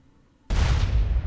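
After near silence, a sudden heavy explosion booms in GTA San Andreas and keeps rumbling loudly without fading.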